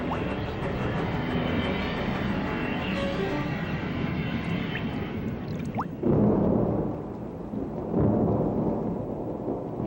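Rainy-season storm in the Florida Everglades, with steady heavy rain hissing and deep thunder rolling loudly through the whole stretch, swelling again near the end.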